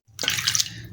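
About a quarter cup of water is poured into a saucepan holding scored whole tomatoes, a brief close splash and trickle lasting under a second with no talking.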